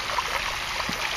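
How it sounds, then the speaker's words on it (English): Water runs slowly over the top of an aquaponics auto siphon in a grow bed, a steady, continuous trickle close by with no pauses. "water is running over the top of the auto siphon, but it's not running fast enough"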